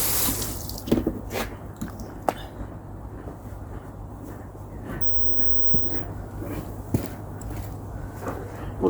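A garden water feature with some spray holes still blocked hisses and splashes steadily, with scattered drips and clatters rising above the constant wash of water.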